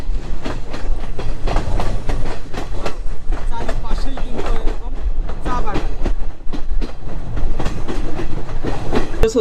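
Tourist-line train in Sri Lanka running along the rails, with steady loud rumble and repeated clickety-clack of wheels over track joints throughout, some faint voices mixed in.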